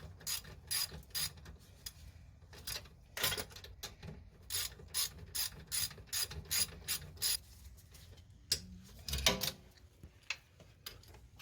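A ratchet tightening bolts on a Subaru Outback rear wheel hub gives off quick bursts of close, crisp clicking, repeated in short rhythmic strokes with brief pauses between them, in a quiet garage setting.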